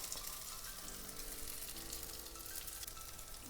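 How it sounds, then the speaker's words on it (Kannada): Soya chunk kebabs fry in a pan of oil over a medium flame, giving a soft, continuous sizzle and crackle that stays quiet and even throughout. "ಮೀಡಿಯಮ್ ಫ್ಲೇಮಲ್ಲಿ ಫ್ರೈ ಮಾಡಿ."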